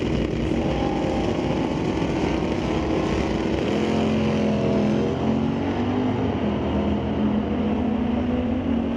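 Drag racing launch at Mission Raceway Park between a 77 Nova and a convertible 66 Impala, loud engines roaring and rising in pitch as the cars pull away, sustained and close.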